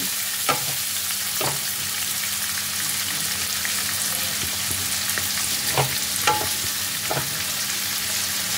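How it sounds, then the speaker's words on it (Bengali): Three finely chopped onions sizzle in a pan with oil, a steady bright hiss broken by a few scattered stirring clicks and scrapes, with no talking. "হালকা লালচে করে পেঁয়াজটাকে ভেজে নিতে হবে।"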